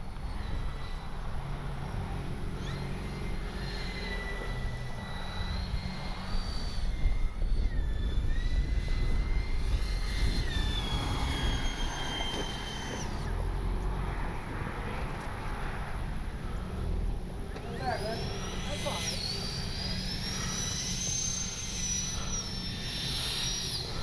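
A Freewing A-10 radio-controlled model jet comes in to land, its steady electric ducted-fan whine holding throughout with a few rising and falling pitch sweeps, heard outdoors at moderate distance without talk.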